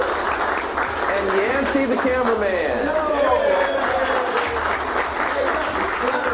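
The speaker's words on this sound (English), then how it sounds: "how about a round of applause for Laura the photographer?" A class audience at a detailing event applauds loudly for the photographer and cameraman, continuous clapping while someone speaks over it.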